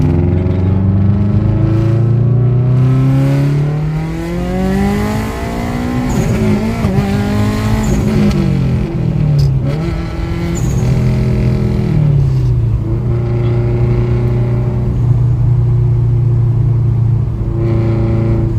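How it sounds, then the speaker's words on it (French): A Subaru engine with a turbo and an HKS SSQV4 blow-off valve revs and drops repeatedly, its pitch climbing and falling, with a sharp hiss of released air on the throttle lifts, loud and continuous. "on a une valve HKS, SSQV4, donc c'est ce que tu entends chanter."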